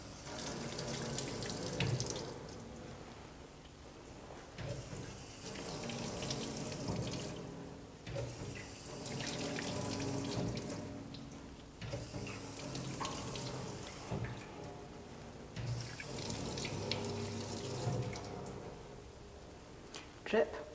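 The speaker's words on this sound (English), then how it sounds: "We can now rinse the solution from our skin." Tap water runs into a sink in a steady gush as scrub solution is rinsed from the skin, the flow rising and dipping as hands move under it, with a voice talking over it.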